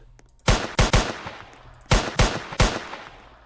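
Two bursts of three loud, sharp gunshots each in the Roblox game Liberty County, rapid and close, with short echoing tails and quiet gaps between the volleys.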